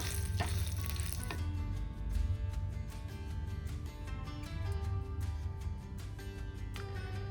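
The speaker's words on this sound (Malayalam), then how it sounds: "ഒരു തവയിൽ എണ്ണ വെച്ചിട്ട് നമുക്ക് ജീരകം ഇടണം പിന്നെ ഉണക്കമുളകും കൂടെ വറുക്കണം" Cumin seeds and dried red chillies frying in oil on a tawa, a steady close sizzle and hiss with light scraping and crackling taps running the whole time, no voices.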